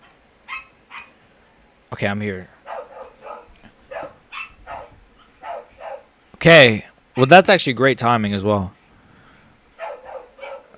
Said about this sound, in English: I don't know if you guys can hear them barking.